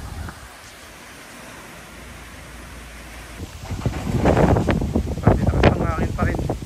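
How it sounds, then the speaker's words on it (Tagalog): Strong wind from Typhoon Uwan near Talavera rushes past. It starts as a low steady roar, then heavy gusts buffet the microphone loudly in the second half, with a voice partly heard beneath. "Lakas ng hangin pa rin."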